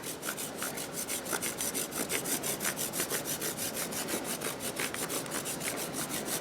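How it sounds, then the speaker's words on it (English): A chocolate bar rubbed steadily against a handheld grater, giving fast, even rasping strokes in a continuous rhythm, close and moderately quiet, with no talking. "And you just want to start grating chocolate all over the top."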